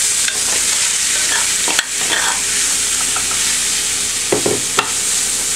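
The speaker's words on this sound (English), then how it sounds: "put some olive oil in a hot pan. And we're going to add our tofu." Tofu frying in olive oil in a hot pan, a loud, dense, unbroken sizzle close by, with a few brief knocks and scrapes from the utensil, no one talking.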